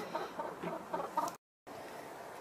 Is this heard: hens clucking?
yes